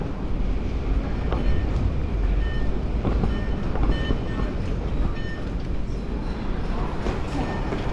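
Steady rumble of a moving Taiwan High Speed Rail bullet train close by, continuous and loud, with faint clacking and a voice talking over it.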